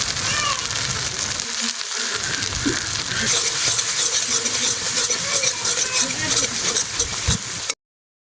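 Browned onions sizzling in a pan with ginger-garlic paste and chili powder, a steady close hiss with stirring scrapes throughout before cutting off abruptly.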